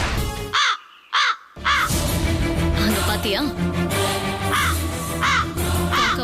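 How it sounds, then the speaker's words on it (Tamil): A crow caws in a series of loud, harsh calls, several spaced across the clip, set against a busy outdoor background with a brief spoken question. "காக்கா வந்துருச்சு."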